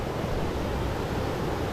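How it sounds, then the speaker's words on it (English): A small waterfall in Salavan, Laos rushes in a steady, broadband hiss, constant and fairly close with no pauses. "I found the elusive waterfall"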